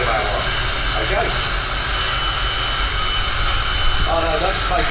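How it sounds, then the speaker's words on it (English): Side-by-side jet dragsters roar down the drag strip at Santa Pod Raceway's Festival of Power, a loud, steady broadband jet rumble that fills the whole stretch, with crowd chatter and voices faintly beneath it. "side by side jet dragsters coming your way"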